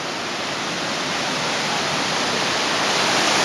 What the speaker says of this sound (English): There are people in the tunnel holding up bottles to collect water that are dripping down into the bottles.